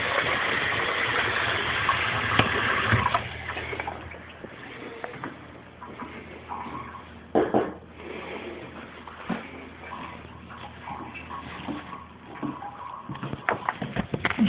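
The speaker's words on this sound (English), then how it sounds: "Water cooler goes off there." A household water cooler gurgles and bubbles at close range, with irregular glugs and a low hum continuing beside it.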